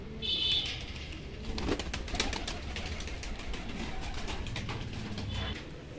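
Pigeons coo softly and repeatedly in a pigeon loft, with low murmuring calls overlapping alongside some light rustling and background noise.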